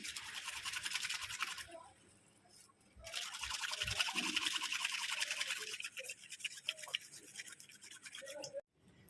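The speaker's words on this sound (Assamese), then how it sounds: "এতিয়া মই এডাল ব্ৰাছেৰে ব্ৰাছ কৰি দিওঁ।" A brush scrubs a soiled household item in two long stretches of steady, close, bristly rasping, broken by brief pauses and faint water trickle and dripping.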